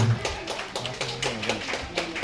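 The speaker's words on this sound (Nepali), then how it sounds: "प्लिज जोरदार तालीको साथमा उहाँलाई स्वागत तथा खाता सम्मान आफ्नो ठाउँबाट ताली बजाइदिनु हुन पनि म हार्दिक अनुरोध गर्दछु" Applause from the audience at a Pakhrin family service society's fifth founding anniversary ceremony in Ramechhap, a steady patter of many hands clapping throughout, moderately loud with no talk.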